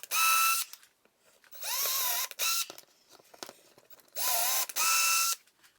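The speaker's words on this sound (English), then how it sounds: "it'll tell you what drill bit to use when drilling your pilot holes" A power drill boring pilot holes with a 5/32 bit, heard as four close, loud whirring bursts that spin up and wind down, separated by short pauses with small handling clicks.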